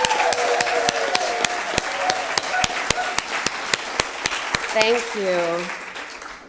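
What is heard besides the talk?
church congregation applauding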